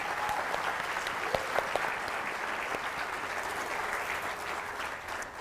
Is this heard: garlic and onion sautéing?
no